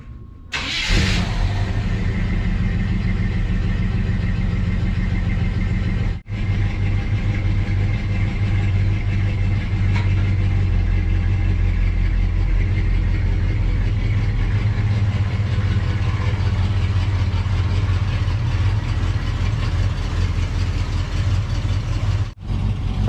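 A carbureted Chevy C10 engine idles steadily while warming up on a cold early morning, a loud, close, continuous low rumble that runs unbroken with no talking over it.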